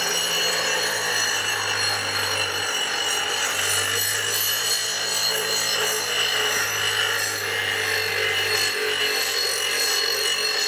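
Steady abrasive grinding on metal trailer suspension backing plates, a continuous rasping drone with a low hum that drops out briefly, close and fairly loud throughout.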